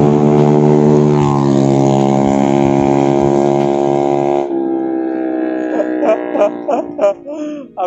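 A Honda New Beat ESP scooter with an aftermarket CLD exhaust and modified CVT drones loudly and steadily at high revs, then drops off and gives several short, sharp throttle blips with a raspy exhaust note.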